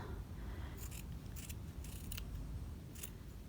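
Faint, crisp snips of scissors cutting, several quick cuts spaced irregularly over a steady low background hum.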